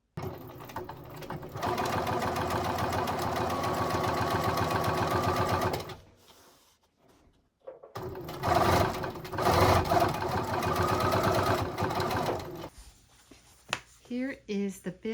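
An embroidery sewing machine top stitches a quilted in-the-hoop baby bib with a steady, rapid mechanical chatter. The stitching runs continuously, pauses briefly, then starts again in shorter bursts, with some handling noise near the end.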